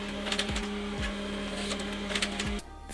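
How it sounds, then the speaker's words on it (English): A printer steadily runs while printing out a sewing pattern, giving a constant mechanical hum and whir with a few periodic clunks before the motor stops near the end. "so now we are going to go print it out"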